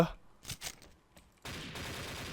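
Gunfire in the XSHOT shooter game, starting with a few scattered shots and then turning into a steady, dense burst of rapid fire that holds loud through the last second.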